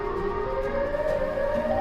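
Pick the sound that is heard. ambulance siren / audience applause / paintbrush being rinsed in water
ambulance siren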